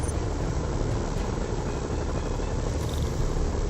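Helicopters in the video game Marvel's Spider-Man make a continuous, dense rotor and engine roar that holds steady and loud throughout, with no break.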